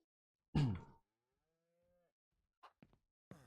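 A single loud, low cow moo in Ranch Simulator, brief and close, followed by a faint tone and a few short soft noises after a pause.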